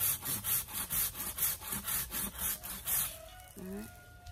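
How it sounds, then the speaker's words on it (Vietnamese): A hand saw strokes back and forth through wood in a quick, even rhythm of about a dozen rasping passes, close and fairly loud, before stopping and giving way to a brief faint tonal sound. "Cưa như này sẽ dễ hơn."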